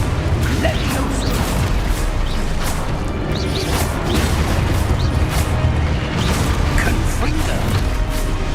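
Hogwarts Legacy gameplay on PS4 as the Levioso spell is cast: repeated magical whooshes, thuds and mechanical clatter from the game, with a voice talking over them.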